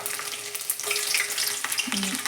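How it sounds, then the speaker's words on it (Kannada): Garlic tossed into hot cooking oil sizzles with a steady bright crackle and hiss, close and fairly loud, with a brief clink of utensil near the end. "ಎಣ್ಣೆ ಕಾದೈತೆ ಅನಿಸುತ್ತ ಬೆಳ್ಳುಳ್ಳಿ ಹಾಕ್ನ"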